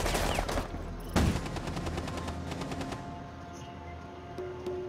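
Rapid bursts of gunfire in the tactical shooter Rainbow Six Siege during a team deathmatch on the Favela map, with a loud sharp shot early on and then a steady stream of close, overlapping rounds that trail off near the end.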